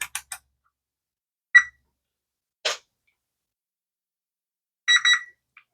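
Multimeter continuity test on the fuses of a Revox B77 MK II tape recorder: a few short electronic beeps and clicks spaced apart in near silence, with a brief clustered beep near the end.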